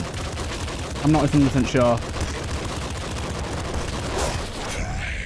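Grenade launcher firing in the video game Nuclear Throne, a dense run of rapid blasts and explosions under game music, with someone talking briefly over the gunfire.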